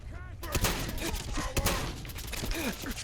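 Sharp repeated gun blasts from a shotgun in Fallout 4, several loud reports punching through in quick succession amid clattering game noise and a voice calling out.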